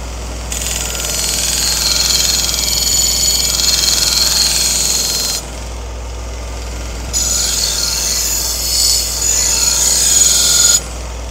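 A belt grinder runs with a felt wheel and compound deburring a knife blade, a loud steady motor whine with a bright hissing contact noise that cuts out briefly midway and then resumes.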